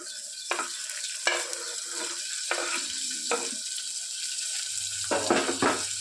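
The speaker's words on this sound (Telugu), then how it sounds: "మనం కట్ చేసి పెట్టుకున్న టమాటా ముక్కలు యాడ్ చేసుకోవాలి" Chopped tomato pieces frying in a pan and being stirred, with a steady sizzle, intermittent spoon scrapes and clinks, and a low rumble near the end.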